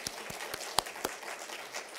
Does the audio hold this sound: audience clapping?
yes